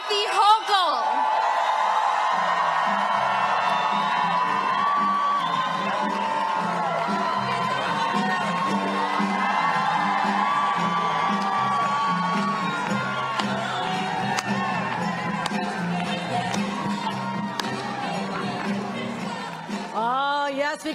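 Crowd at a Westchester, New York get-out-the-vote political rally for the governor cheering and making noise, a sustained loud roar with whoops and shouts filling the whole stretch.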